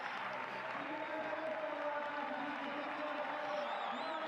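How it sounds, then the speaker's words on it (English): Crowd at a show jumping grand prix cheers and applauds in a continuous distant roar, with a commentator talking over it. "They are cheering, they are shouting"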